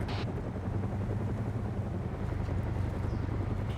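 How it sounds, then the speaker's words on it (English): A loud, steady engine drones close by with a low rumbling hum and wind-like roar, constant throughout with no talk over it. "the engine noise is a bit much"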